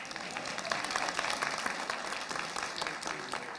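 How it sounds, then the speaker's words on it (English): An audience at a city planning and zoning meeting claps together, a steady patter of many hands at moderate distance, fairly quiet and continuous for a few seconds. "Supports get claps."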